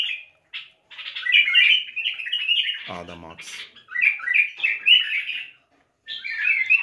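A pet cage bird in a white cage sings and chirps in bright, continuous trills and warbles close by, with a brief pause; someone speaks briefly over the song.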